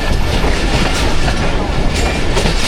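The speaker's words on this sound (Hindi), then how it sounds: "ये पैसेंजर 12 डाउन हज़ारा एक्सप्रेस के जो अप्रोच बना रही है सामने" The 12 Down Hazara Express passenger train approaches Nawabshah railway station, a loud, continuous rumble with rhythmic wheel clatter close by.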